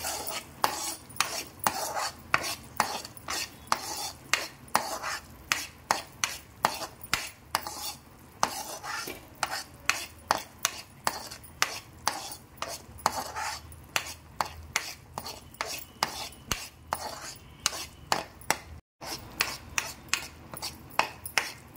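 A spoon stirs and scrapes thickening coconut milk khova with cardamom powder and ghee in a pan, making rapid rhythmic scrapes that repeat steadily and close by, with no talking.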